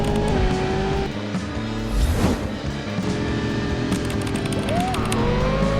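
Video game race car roaring at high speed with tire squeal and passing engine sweeps, loud and continuous over a layered music-like backdrop.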